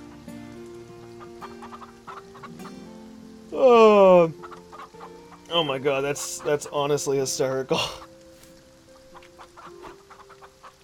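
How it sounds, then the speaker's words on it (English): Chickens cluck in the farming video game Farm Together, with a loud burst of squawks near the start followed by a busier run of clucking, while a person laughs and talks over the scene. "There's so many freaking chickens, though."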